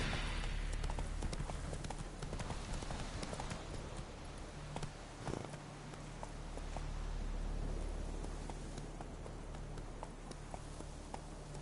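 A horse gallops in The Witcher 3: Wild Hunt, its hooves pounding in a fast, steady clip-clop rhythm that continues throughout, up close beneath game ambience.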